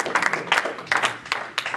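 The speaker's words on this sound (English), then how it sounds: "Clap your hands to Jesus." Scattered hand clapping from a church congregation, moderately loud and uneven, repeating in a loose rhythm over a couple of seconds.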